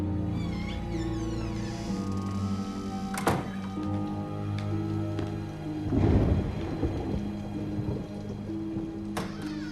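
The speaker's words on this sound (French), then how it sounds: "Arrête, Amanda, c'était que l'orage." Thunderstorm with rain falling steadily and two heavier thunder rumbles, the louder one about two-thirds through. Low tonal music-like layers run underneath throughout.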